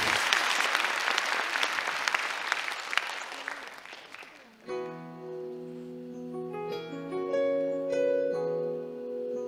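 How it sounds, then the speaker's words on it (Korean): Audience applause at a lecture concert, a dense wash of clapping for about four and a half seconds that stops abruptly as sustained piano-like musical tones and a song begin. "큰 박수로 청해 듣겠습니다."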